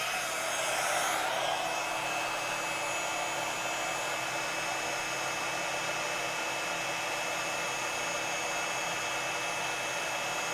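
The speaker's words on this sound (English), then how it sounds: "Now we're going to use the heat tool again." A heat tool blows steadily over a mixed media journal page, giving a continuous, loud, even whooshing drone that lasts throughout.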